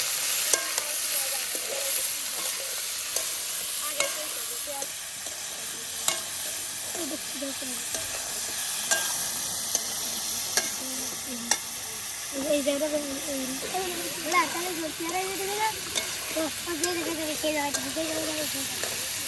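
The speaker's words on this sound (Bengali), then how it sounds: "এটা হলুদের গুঁড়া, হলুদের গুঁড়া, লবণ একদম সব কিছু দিয়া আপনার একসাথে তেলের সাথে মিক্স করে নেওয়া হচ্ছে।" Turmeric, salt, potatoes and beans frying in oil while being stirred, a soft continuous sizzle with scraping spoon strokes at a moderate distance, faint intermittent voices in the background.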